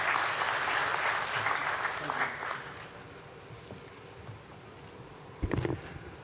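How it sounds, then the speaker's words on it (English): An audience at a stock exchange listing ceremony gives a round of applause to welcome a speaker, a fairly loud burst that fades over several seconds, followed by a brief thump and rustle near the microphone. "Let's welcome him with a round of applause"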